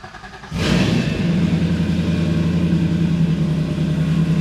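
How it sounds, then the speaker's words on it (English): A 1968 Chevrolet Camaro SS with a supercharged 650 hp LT4 V8 cranks and fires up at once, then holds a steady, deep, loud rumble while idling close by. "waiting to hear this car start up"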